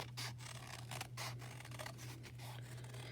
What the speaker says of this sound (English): I'm going to take my scissors and I'm just going to cut this out carefully